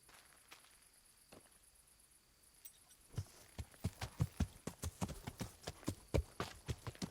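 Horse hooves clip-clop in Kingdom Come: Deliverance, starting after a quiet stretch and then falling into a steady, close walking rhythm over faint insect chirps.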